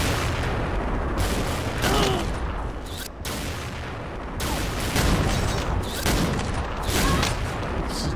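Rapid gunfire fills the XSHOT shooting video game round, dense bursts of shots rolling almost without pause at a steady loud level throughout, with a brief dip near the middle before the firing resumes.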